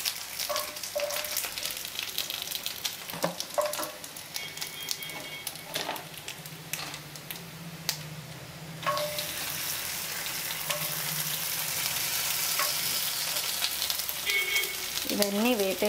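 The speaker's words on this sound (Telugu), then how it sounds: "ఇదిగోండి వడియాలు అయితే వేపేస్తున్నాను" Vadiyalu, sun-dried fritters, fry in very hot oil in a home kitchen, giving a steady, loud, close sizzle and crackle throughout. The sizzle swells and grows brighter partway through, with faint clinks and stirring under it.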